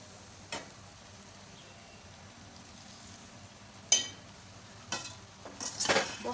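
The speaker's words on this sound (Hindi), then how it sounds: "अब मैं इसको अच्छी तरीके से भून लेती हूँ।" Keema with whole spices stirred and fried in a kadai: a quiet background hiss broken by a few sharp spoon-against-pan knocks, then more frequent scraping and sizzling toward the end, close up with no voices.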